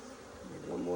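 Honey bees buzzing around the frames of a queenright hive, a brief close droning hum that swells louder toward the end of the second, with no talk.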